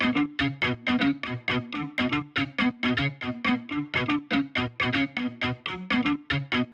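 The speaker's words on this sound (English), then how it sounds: "the most ear-grabbing feature in this song is this talking guitar synth, which sounds something like this" Talking guitar synth built in Kontakt on an electric guitar library, playing a fast, evenly pulsed run of vowel-like plucked notes, bright and upfront, with no other sounds.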